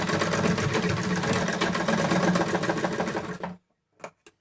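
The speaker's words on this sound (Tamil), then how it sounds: "இதுக்கு மேலே இன்னொரு ஸ்டிச்சிங்கும் நம்ம போட்டுடலாம்" Electric sewing machine running steadily while stitching a blouse shoulder seam, a continuous close, loud mechanical whir for about three and a half seconds, then stopping, followed by a couple of short clicks.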